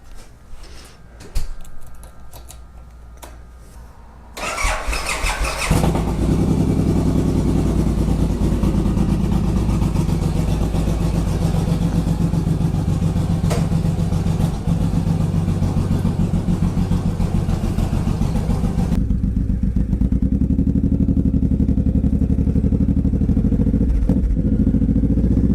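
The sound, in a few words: Suzuki cruiser motorcycle engine and exhaust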